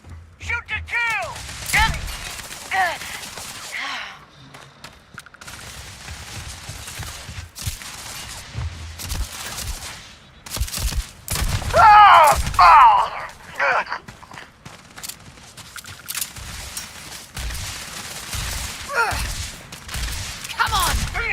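Sci-fi gunfire from the Starfield game comes in scattered sharp bursts and volleys, mixed with footsteps, mechanical clanks and character voices across a busy combat stretch.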